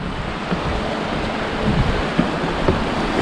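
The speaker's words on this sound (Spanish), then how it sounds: "se escuchan las turbinas de la central" Turbines of a power station by a bridge in an Andalusian village give a steady, broad rushing roar, loud and unbroken, with faint knocks on top.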